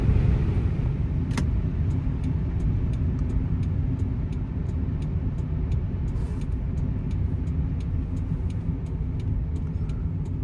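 Steady road rumble and engine drone inside a car cruising on cruise control after cresting a hill, continuous and even with faint clicks over the top, no talking.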